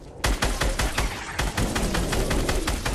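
Rapid automatic gunfire in the Fortnite video game, with dense loud bursts of shots firing in quick rhythmic succession, close and sustained over a few seconds.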